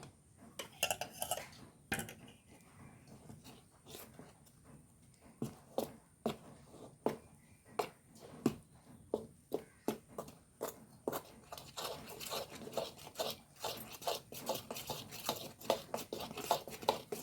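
A utensil stirs a dark jaggery mixture in a pot with repeated sharp clicks and taps against the metal, an irregular rhythm at close range, quiet and without speech.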